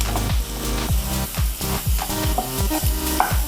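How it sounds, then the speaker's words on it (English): Onion and ginger garlic paste sauteing in a pan, a steady loud sizzle with rhythmic scraping stirs about every half second, close up and without talking. "saute for about 2 to 3 minutes"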